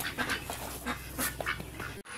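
A male broiler duck gives soft, low, raspy calls in a short irregular series of quiet bursts, close by on a farm, with no talking.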